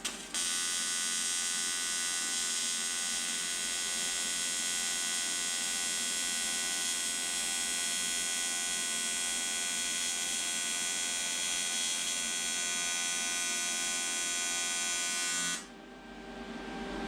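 Welder laying a bead on an exhaust pipe, a continuous close buzzing crackle held steadily for about fifteen seconds before cutting off abruptly.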